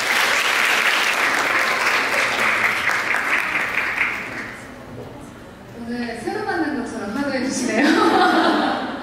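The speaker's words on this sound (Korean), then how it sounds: "박수로 한번 맞아주시기 바랍니다." Audience at a live beauty talk concert applauds to welcome a speaker on stage: loud, dense clapping for about four seconds, then fading as cheers and scattered talk and laughter rise near the end.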